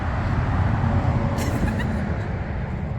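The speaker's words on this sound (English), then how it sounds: "You're going to hear a few trucks in the background there." Trucks pass on a busy road near an outdoor crystal-digging site in Coldwater, Ontario, making a steady, continuous rumble of traffic in the background with a few faint higher squeals.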